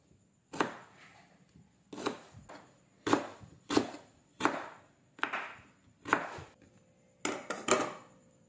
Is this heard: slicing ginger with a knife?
yes